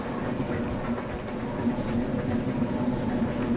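A train runs steadily in the video game Resident Evil 0, a continuous low rumbling drone with faint rhythmic rail clatter throughout, no voices.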